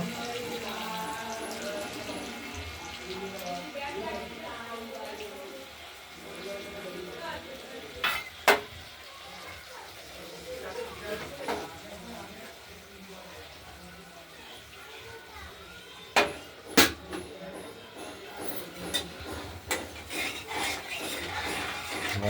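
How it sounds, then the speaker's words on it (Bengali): Spiced rohu fish stirred in a frying pan with masala and turmeric, giving a soft continuous scraping and sizzle with a few sharp clinks, under ongoing talk in the background. "নাড়াচাড়া করতে থাকবো পনেরো মিনিট"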